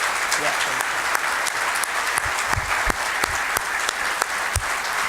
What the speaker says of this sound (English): how about a huge round of applause once again for the legendary George Blaha